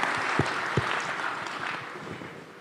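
An audience applauds for Narayan Murthy at a live business event, a short, even patter of clapping with a few distinct louder claps near the start.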